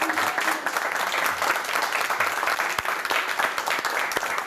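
An audience applauds a singer at a game event: dense, continuous clapping from a sizable crowd, fairly loud and even from start to finish, with no speech over it.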